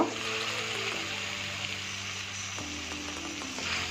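Omora (hog plum) chutney frying in a pan, a continuous close sizzle with a low hum underneath, steady for a few seconds, with no talking.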